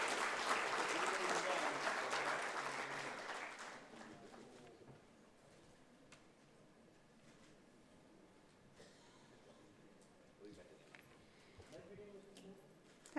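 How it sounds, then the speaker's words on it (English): Audience applause for a panel at a sustainability summit's inaugural session, full and steady for about four seconds, then fading into quiet room noise with faint stray sounds. "Please join me in applauding the panel and thanking them for their time this morning."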